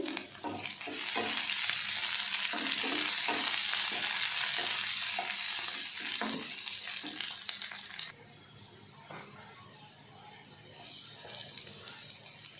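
Slit green chilies hit hot oil and fry with a loud, crackling sizzle, spattering close by with rhythmic stirring, then settle into a quieter, steady hiss.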